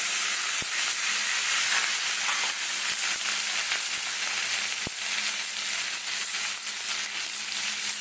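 Vegetables sizzle in half a spoon of butter in a pan for homemade chicken soup, a loud, steady frying hiss with a few faint clinks.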